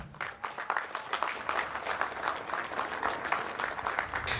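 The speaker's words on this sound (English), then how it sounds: "But while the speech itself received some applause overall" An audience applauds during a speech by JD Vance, sustained clapping from a crowd that stays dense and fairly loud throughout.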